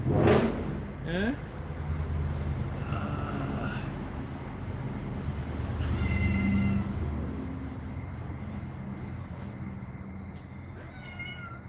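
A pet cat meows several times at close range in a home during a casual livestream, short calls spread across the stretch, with a person talking nearby and steady background hum throughout.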